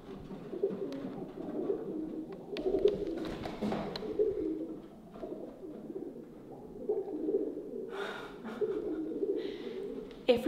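Pigeons cooing inside the old Burra copper mines, soft repeated low coos echoing at a moderate distance, with faint rustling and a few sharper noises.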